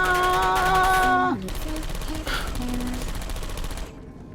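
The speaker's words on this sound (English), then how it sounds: "So many bullets." Bursts of gunfire and bullet impacts in Portal 2, a steady rattle of rapid shots that continues after an electronic tone cuts off, loud and close, then stops abruptly.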